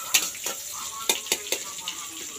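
Chicken fries in a pan over a wood-fired clay stove, a low sizzle punctuated by several crisp stirring scrapes and clinks, close and fairly quiet.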